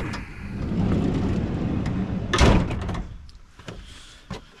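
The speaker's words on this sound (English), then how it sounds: "So sliding door." A van's sliding side door rolls open with a loud, sustained rumble and ends in a heavy clunk, followed by fainter rattles and small knocks inside the van.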